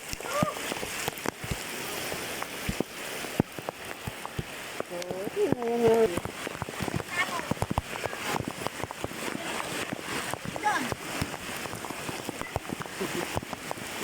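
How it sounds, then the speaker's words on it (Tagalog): Heavy rain from a typhoon pours steadily with dense patter and splashes throughout, while a few brief voices speak over it. "Ang ulan."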